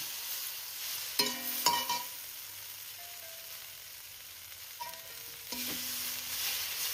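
Kulekhara greens stirred in a pan, with a few sharp utensil scrapes and clinks over a soft, steady sizzle, quiet and close with gaps between strokes.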